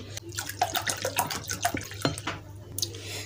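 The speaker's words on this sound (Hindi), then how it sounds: "अब हम इसमें डालेंगे पानी" Water poured into a pani puri spice mix, a soft, close splashing and trickling stream with small drips, fairly quiet.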